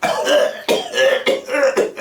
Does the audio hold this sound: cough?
yes